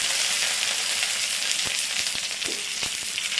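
Chopped onions fry in a pan for a raw banana ozhichucurry, a loud, constant hiss with a few sharp crackles and stirring taps near the end.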